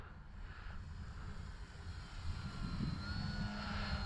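A small propeller engine of an FMS PA-18 Super Cub 1300mm RC model airplane drones steadily, growing a little louder toward the end as the plane passes nearer.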